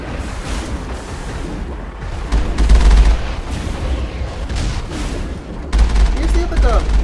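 Gunfire from a weapon in the Mass Effect video game, loud bursts of rapid shots and booms running continuously, with heavier blasts near the middle and end, under occasional talk.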